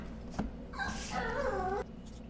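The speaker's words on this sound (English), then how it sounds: "Yella, come and get this dog." A dog whines at close range indoors: a short yelp is followed by a single drawn-out, high, wavering whine lasting about a second, then quiet.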